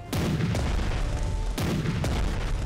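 Heavy naval guns of the German military blast at an enemy fleet in a strategy war game, a dense continuous barrage of loud booms with fresh heavy shots landing around one and a half and two seconds.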